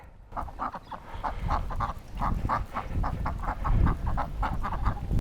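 Repeated nasal duck quacks in a steady rapid series, loud and close, heard alone with no talking over them.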